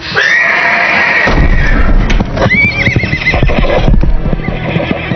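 In a scene from the Hindi-dubbed film Jeepers Creepers 3, loud horses whinny twice, long shrill neighs, over a busy clatter of hooves and rumbling movement close by.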